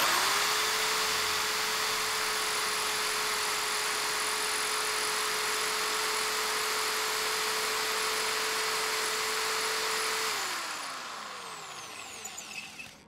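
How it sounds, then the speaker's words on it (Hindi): A Buildskill Pro BGSB13RE 13 mm impact drill bores a hole into brick in normal mode, its steady high motor whine running loud and constant for about ten seconds before spinning down and fading. "मैंने यहाँ पे ईंट पे ही जो है एक होल किया था पहले मैंने नॉर्मल मोड में होल किया था एक बार आप इसकी साउंड भी सुन लीजिए"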